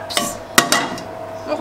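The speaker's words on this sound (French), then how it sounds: "on remet le couvercle" Lid set back onto a tajine pot holding chicken with apricots and almonds, a few sharp ceramic clinks and knocks in quick succession, close and fairly loud, with no talking.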